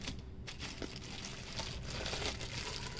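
Plastic packaging around a box of heat transfer vinyl crinkles and rustles as it is opened, with close, irregular crackles over a few seconds and no talking.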